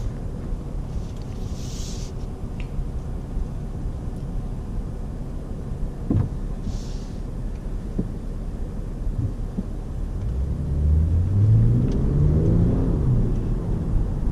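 Toyota Camry V6 from the 2018–2020 model years accelerating on a test drive, a steady low cabin rumble that swells and grows louder toward the end as the engine note climbs, with no talk.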